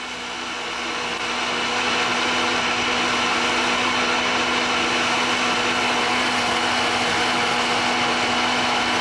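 A blender runs at top speed blending soup, a loud, steady whir ramping up in the first seconds and then holding constant close by.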